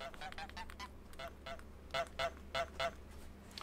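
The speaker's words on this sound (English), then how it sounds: "So you press Y to honk." Goose honks from Untitled Goose Game, a few quieter calls followed by four louder, evenly spaced honks over a steady low background hum.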